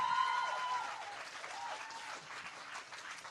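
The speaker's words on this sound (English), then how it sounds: "One more round of applause, please, people." Fairly quiet applause at a poetry open mic, a brief tonal note at the start giving way to scattered clapping and a few cheers that taper off gently.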